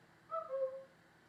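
Someone off stage imitates a cuckoo call with the voice, two or three short tonal hoots falling in pitch, fairly soft and alone, on a children's television show.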